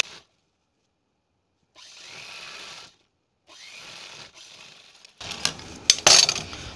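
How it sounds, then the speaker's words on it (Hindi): A sewing machine stitches a strip onto a princess cut blouse in short bursts driven by the foot pedal, two soft whirring runs separated by silence, followed by louder clattering and knocks at the end. "एक पैर का दबाव देते हुए सिलाई लगाना है"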